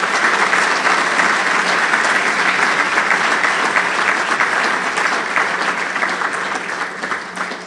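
Sustained audience applause fills a Labour Day union banquet hall, a dense, steady wash of many hands clapping at close range that eases slightly toward the end, with no talking over it.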